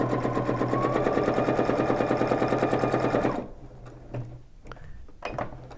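A sewing machine stitches fabric crosswise with a fast, steady mechanical chatter for about three seconds, then stops abruptly, followed by a few quiet clicks and handling sounds.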